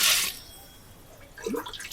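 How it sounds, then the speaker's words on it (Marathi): Water splashes into a clay pot of sorghum grain in two short pours, the first brighter and the second lower and gurgling, fairly close. "ज्वारी भिजेल एवढं यात आता पाणी घालूया."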